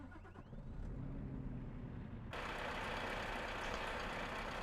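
A Scania truck engine idles in Euro Truck Simulator 2, a steady low rumble with a dense hiss joining midway as the sound opens up, continuous and even, with no talking.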